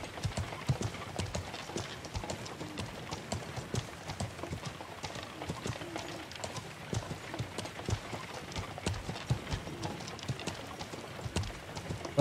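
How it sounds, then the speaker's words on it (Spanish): A horse gallops in the video game Feudal MMO with rapid, steady hoofbeats clattering continuously throughout. It is fairly close, and no one talks over it. "Que te pare el caballo, coño."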